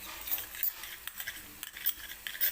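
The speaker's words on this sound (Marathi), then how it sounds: "हे असं एका छोट्या चमच्याने मी हा रंग दुधामध्ये मिक्स करून घेते" A small spoon stirs food colouring into milk for a bottle gourd halwa, giving quick, light clinks and scrapes against the container in an uneven, close rhythm.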